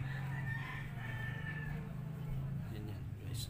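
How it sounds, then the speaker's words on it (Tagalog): A hen calls over a steady low hum, with a drawn-out, slightly wavering vocalization that runs for several seconds and then fades. Faint brighter chirps come near the end. "Guys, ito ang hen."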